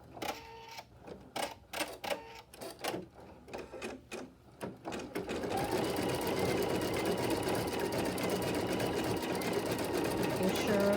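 A sewing machine works a decorative stitch on orange peel quilt blocks. A person talks over a few short stop-start bursts of the machine, then it runs loudly and continuously to the end.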